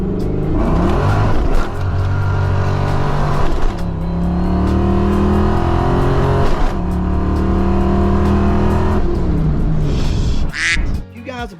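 A Ford Foxbody Mustang street car's V8 revs hard and loud, rising and falling in repeated long pulls with sharp, rough edges, then cuts off abruptly near the end.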